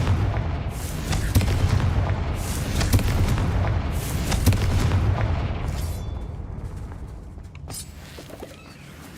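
Confringo blasting spells in Hogwarts Legacy go off as a run of heavy, booming explosions that overlap into a dense rumble, loud and close, fading slightly toward the end.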